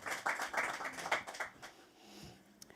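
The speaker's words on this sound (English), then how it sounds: "applause, please." An audience at the World Woman Davos Agenda event applauds a Nobel Peace laureate taking her seat, with a burst of moderate clapping that thins out and fades to quiet murmur after about a second and a half.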